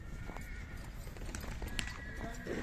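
Horses at a livestock market in Sokuluk, Kyrgyzstan, snorting and shifting with hoof clops and a brief whinny, steady and fairly near amid crowd murmur and voices.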